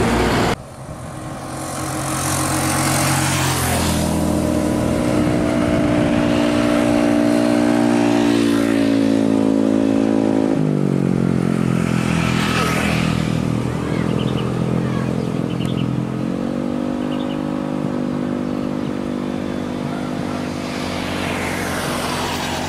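Convoy of top-class Gumarang Jaya coaches heading to Muara Bungo in the morning, heavy diesel engines droning and shifting as several buses pass close by, with rising and falling roar and repeated gear changes.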